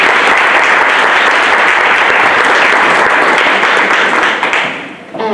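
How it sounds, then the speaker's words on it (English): An audience at a library talk applauds loudly and continuously for about five seconds, dense clapping that fades out at the end. "Can we please give him a round of applause?"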